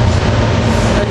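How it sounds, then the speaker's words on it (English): A SEPTA commuter train, number 376 from Elwyn to West Trenton, rumbles into 30th Street station at rush hour, a loud, steady, broadband roar with no break. "here we got train 376 coming in from Elwyn to West Trenton"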